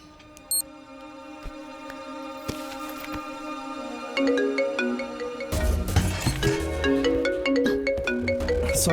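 A mobile phone ringtone plays a melodic electronic tune that grows louder and fuller partway through, ringing steadily and alone without talk.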